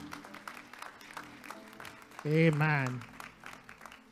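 At a Missionary Baptist church service, the congregation gives a brief round of clapping in praise beneath talking, while a strong voice rises loudly over it midway before fading back.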